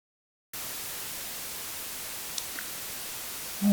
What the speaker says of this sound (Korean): 원래는 이런 소리를 가진 이 화이트 노이즈를 이용해서